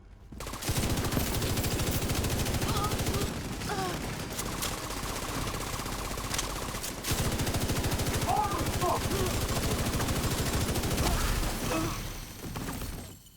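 Sustained rapid gunfire in a video game as a chest is shot, dense bursts filling almost the whole stretch with a short break partway, loud and close, with some speech mixed in.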